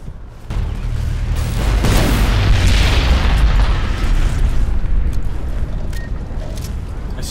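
A character blows up in Fallout New Vegas, a loud deep boom that swells into a long rumbling roar and slowly fades, with faint clicks after.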